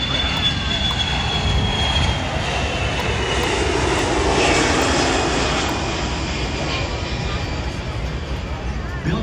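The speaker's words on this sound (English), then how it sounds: "the KC-135R, the Stratotanker, the aerial infantry aircraft" Boeing KC-135R Stratotanker jet engines at an air show give off a loud, continuous roar and whine that holds steady throughout, with a voice faintly present underneath.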